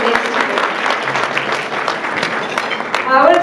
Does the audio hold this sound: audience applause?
yes